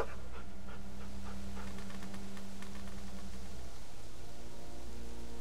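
A dog panting in The Walking Dead Telltale video game, a steady run of soft rhythmic breaths over a low constant drone, close and moderately quiet with no talking.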